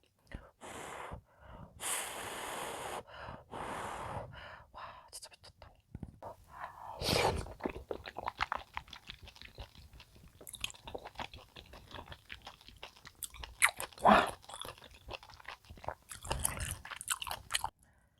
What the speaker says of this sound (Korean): 제가 너무너무 좋아하는 대창부터 먹어볼게요